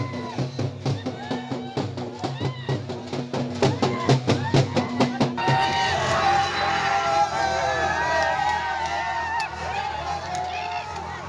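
BJP supporters celebrating municipal election results in Amravati, Maharashtra: a rhythmic run of loud drum-like beats gives way to a dense, continuous roar of crowd cheering and shouting.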